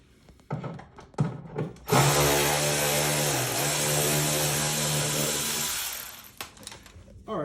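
A power tool drives out 10mm screws from the inner fender liner of a 2013 BMW X5, whirring loudly and steadily for about four seconds after a few short knocks and handling sounds.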